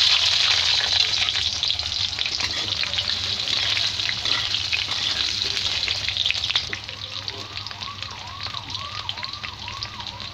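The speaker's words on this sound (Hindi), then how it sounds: "अब मैं इन आलुओं को थोड़े से हल्दी और नमक के साथ फ्राई करूँगी इसी तेल में।" Potatoes frying in oil with turmeric and salt, a steady bright sizzle filling the clip, loud at first and then slightly softer after a few seconds, with faint stirring and no talk.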